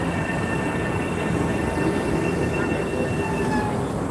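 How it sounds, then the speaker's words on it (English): A train rolls steadily along the rails, a continuous loud rumble with faint high wheel squeal running through the whole stretch, no voices. "You always take this train."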